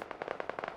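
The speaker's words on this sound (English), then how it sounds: "Sounds like gunfire." Distant gunfire in the Fallout VR game comes as a brief burst of faint, rapid crackling pops.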